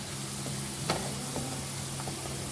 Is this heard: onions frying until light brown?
yes